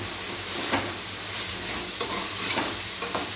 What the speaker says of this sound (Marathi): असं छान भाजून घ्यायचं